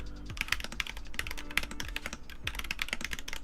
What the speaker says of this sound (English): If you're slamming into your keyboard like this,